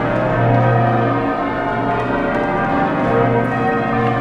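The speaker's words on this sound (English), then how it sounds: "They're a majestic ring of bells." Church bells rung by a band of ringers on a majestic ring, the tones overlapping in a steady, dense peal that stays loud and continuous throughout.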